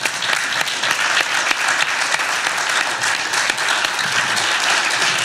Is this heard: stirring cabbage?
no